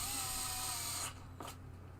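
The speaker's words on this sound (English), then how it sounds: "I got my hand loose on the drill, so when it does catch, it will spin in my hand." Power drill driving screws into the wood of a Williams Travel Time pinball playfield, a steady close whine for about a second, then it stops with a faint clack.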